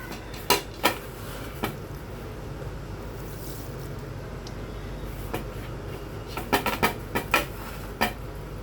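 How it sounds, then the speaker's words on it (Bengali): A spoon clinks and scrapes in a pan while three oils and nigella seeds are stirred together, giving scattered sharp taps, a few of them in quick clusters, over a low steady background. "চামচ দিয়ে তিনোটা তেল ভালো করে মিক্স করে নিতে হবে নেড়ে চেড়ে।"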